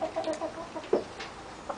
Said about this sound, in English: We've got about 15 chickens at this point